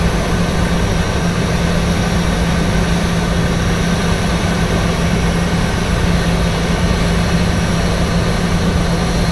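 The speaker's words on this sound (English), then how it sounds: "Another airplane landing." A jet airliner lands in the VATSIM flight simulator, a loud, steady, low engine drone that holds without pause, with no voices over it.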